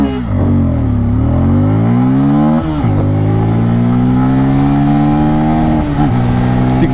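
A loud Bajaj Pulsar N250 or Suzuki Gixxer 250 motorcycle engine revs hard and climbs in pitch, dropping briefly at each gear shift before rising again, several shifts in a row.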